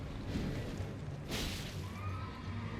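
The Night's Cavalry horse in the Elden Ring video game lets out a loud, shrill whinny over a rumbling background, the cry wavering and fading away over about a second.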